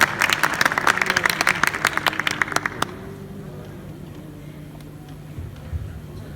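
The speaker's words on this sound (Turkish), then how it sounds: "Alkışlarınızla." Audience applause greeting a performer onstage at a singing competition, a burst of dense clapping for about three seconds that stops abruptly, leaving a quiet room hum with faint scattered noises.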